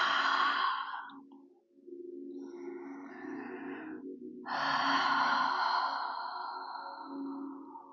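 Slow, deep Ujjayi breaths during a Pilates stretch, heard as long airy inhales and exhales close to the ear, with a brief pause between breaths and soft background tones underneath.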